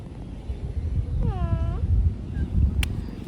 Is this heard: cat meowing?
yes